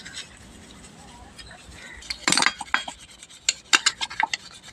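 Metal brass vessels clink and scrape against each other while being scrubbed and washed, in a series of sharp, irregular clatters, nearby and moderately loud after a quiet start.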